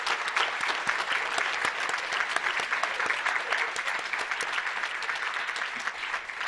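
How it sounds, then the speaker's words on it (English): Sustained, dense applause from a large audience at a cherry blossom grand ball, even and continuous for several seconds with no talking on top. "I would like to ask for the final round of applause to celebrate and congratulate everyone on their great activities"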